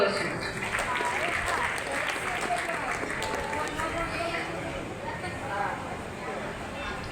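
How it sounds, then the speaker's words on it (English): Audience applause at a school birthday-anniversary function honouring students' exam scores, a steady sustained clapping that fills the whole stretch with crowd noise beneath it. "Give them a big round of applause"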